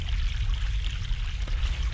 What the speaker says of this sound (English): Fresh mountain water.